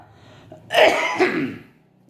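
A single cough from a man giving a lecture on hadith studies, close and fairly loud, a harsh burst with a short second push, then quiet.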